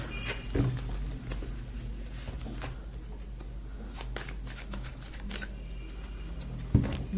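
Tarot cards being shuffled by hand in a quiet room, a soft continuous riffling patter with occasional sharper card snaps, fairly close and steady throughout.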